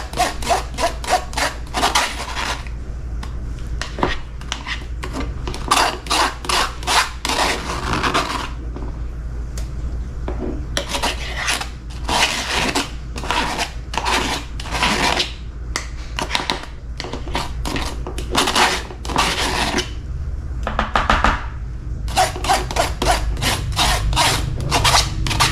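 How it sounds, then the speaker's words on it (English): Homemade tomato paste is scooped and scraped with repeated rhythmic rasping strokes close by, bursts of scraping separated by brief pauses throughout. "I'm gonna scoop that over there."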